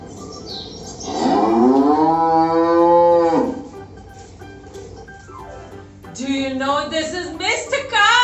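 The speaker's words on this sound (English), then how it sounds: "With a moo moo here and a moo moo there, here a moo, there a moo, everywhere a moo moo." A cow lets out one long, loud, drawn-out moo that dips and then rises, set within a children's Old MacDonald farm song. Other voices come in loudly afterward.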